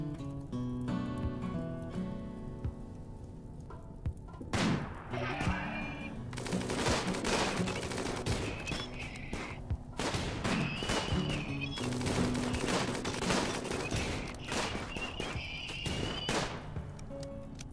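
Rapid bursts of colonist gunfire from the video game RimWorld crackle continuously and loudly for the whole stretch, dense fusillade-like volleys with no pauses and no talk.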